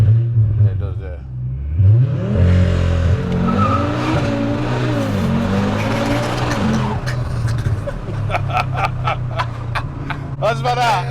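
A VW Golf R fitted with an Audi RS3 five-cylinder engine making 640 bhp launches hard under launch control, engine roaring and climbing through revs with tire noise, while people inside talk over it.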